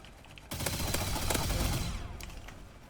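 Duel Blasters guns fire in Roblox Hypershot, a dense burst of rapid gunshots that starts suddenly, stays loud and close for about a second and a half, then fades out.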